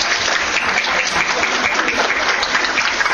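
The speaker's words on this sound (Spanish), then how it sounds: "Recibámoslo con un fuerte aplauso." Loud, dense applause from the audience at a lecture on the molecular basis of memory, continuous clapping from a full room with no gaps or voices.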